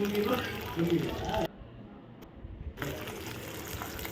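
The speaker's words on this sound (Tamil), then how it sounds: "நம்ம தேவைக்கேற்ற தண்ணியை சேர்த்துக்கலாம்" Water gushes into a pot, then the sound briefly drops away before the pouring and sloshing resume; a voice speaks over parts of it.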